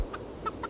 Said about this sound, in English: ship's poultry